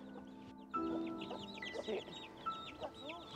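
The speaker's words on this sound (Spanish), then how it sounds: "Mira, las gallinas." Hens clucking nearby in short, scattered bursts on a farm where dogs attacked the flock and only two birds survived, with someone talking over the calls.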